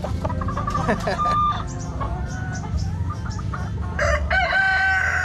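A gamecock rooster crows loudly and close, with clucks from other fowl around it in a farmyard setting, overlapping calls over a steady background.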